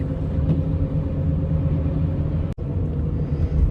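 A steady low rumble of a car driving along the road, heard from inside the cabin, with one brief dropout partway through.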